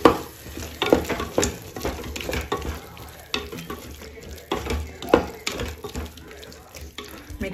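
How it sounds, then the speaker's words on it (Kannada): A spoon scrapes and stirs ground chili paste and masala in a pan for a sambar-style dish, irregular close scraping strokes and clinks over a soft sizzle, with no talking. "ಇವಾಗ ಒಂದ್ಸಲ ಮಿಕ್ಸ್ ಮಾಡ್ಕೊಳ್ತೀನಿ."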